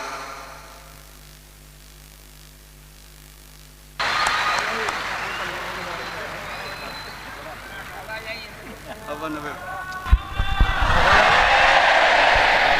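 Audience at an Indonesian religious lecture gathering applauds for a preacher, a sudden loud burst of clapping and crowd noise that swells again near the end, with a voice speaking over it.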